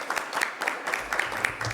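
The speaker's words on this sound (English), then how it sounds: "Let's give these 2 students a round of applause." Audience at a school district board meeting clapping for two honored students, a brief, fairly sparse round of hands with distinct individual claps in a quiet room.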